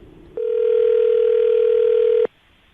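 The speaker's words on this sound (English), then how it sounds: "we're gonna give him a call right now" A steady telephone dial tone sounds for about two seconds at a radio morning show as a call is placed, starting abruptly and cutting off cleanly over a quiet background.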